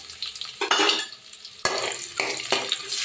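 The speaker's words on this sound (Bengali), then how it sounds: "পেঁয়াজটা একটু ভাজা হোক।" Chopped onion sizzles in hot oil in a pan where potatoes were just fried, with a steady frying hiss broken by sharp clanks and scrapes of a spatula stirring against the metal.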